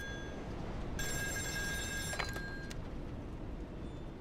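An old telephone rings on a North Sea oil rig in a horror video game: a bright, steady electronic ring lasts about two seconds over a heavy low rumble of machinery and wind, then fades out.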